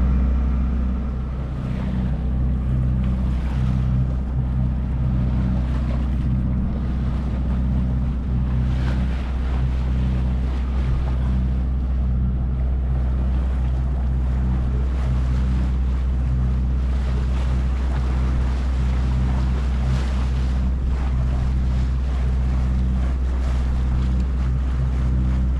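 Continuous low engine rumble and rushing water of a sailboat under way at sea between Porquerolles and Corsica, with steady wind buffeting the microphone and no voices.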